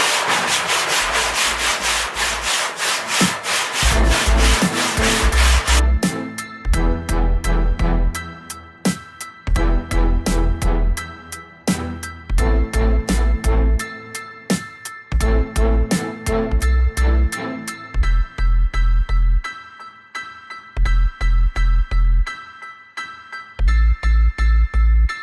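Hand sanding of truck box bodywork with a fresh sheet of 80 grit sandpaper, steady rhythmic rasping strokes back and forth, close and loud, continuing without talk.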